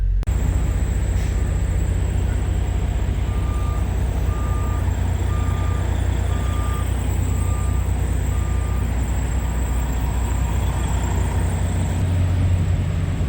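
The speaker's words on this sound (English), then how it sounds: "Alright, so we are at this truck stop." Steady traffic rumble fills a TA truck stop, with idling and passing trucks and a repeating reversing beeper sounding clearly over the continuous engine drone.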